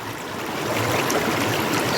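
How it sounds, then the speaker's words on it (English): Creek water rushing over rocks at a rockhounding spot, a steady close babbling flow that swells slightly, with no voices. "It's a good creek."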